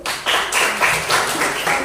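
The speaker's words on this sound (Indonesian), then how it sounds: "Kasih tepuk tangan dulu." Students in a classroom clap their hands in a quick burst of applause with a rhythmic, roughly regular beat, loud and close, with no talk over it.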